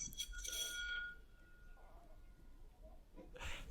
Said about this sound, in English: Oh, there's a bell.